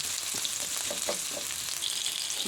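Sautéing in a hot pan to start fried rice: a steady, close sizzle with soft scraping and stirring strokes, moderately loud and continuous with no voices.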